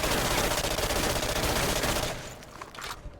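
Sustained, loud automatic fire from the XM108 Sear in Call of Duty, a continuous roaring burst lasting about two seconds before cutting to a few quieter trailing clicks and mechanical sounds.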